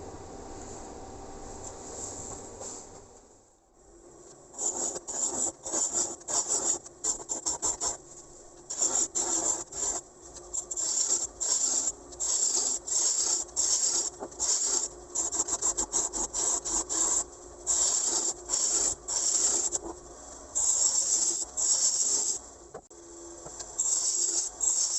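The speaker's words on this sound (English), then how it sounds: "So we'll go across to the lathe now, and we'll get that mounted up and start to turn." A Sapele wood hemisphere turns on a lathe as a tool cuts it, making a loud, close, rasping scrape in repeated bursts with brief pauses between them, and no one speaks.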